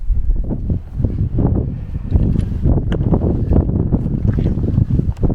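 Strong wind on a mountain ridge in the UK buffets the microphone with heavy, gusting low rumble that continues without a break, loud and close.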